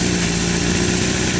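A Honda CBR1000RR sportbike engine with a Micron exhaust runs loud and close in a brief, steady rumble with no clear rise or fall in pitch.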